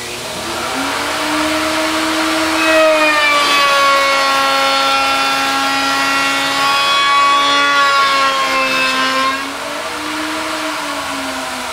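A woodworking machine runs steadily for about ten seconds while shaping a cutting board, giving off a loud, sustained whining tone that rises slightly as the blade bites into the wood and then settles. No talking is heard.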